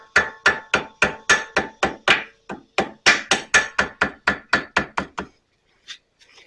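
A pointed peen hammer strikes metal while restoring a 1933 Maytag Model 92 washing machine, a loud close rapid series of about twenty sharp blows in steady rhythm, then a pause and one lighter tap.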